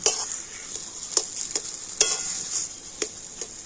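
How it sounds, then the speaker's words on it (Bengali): Food sizzles in a hot pan while a utensil stirs and scrapes in irregular bursts, close and fairly loud, no talking. "হালকা জাল দিয়ে এইভাবে একটু নাড়াচাড়া করে আলুটাকে কিন্তু ভাজা ভাজা করে নেবো"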